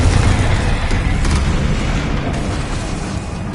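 Explosive Confringo spell in the wizarding game Hogwarts Legacy, a dense, loud rumbling blast with booming low-end that sustains and slowly tapers over a few seconds, no speech.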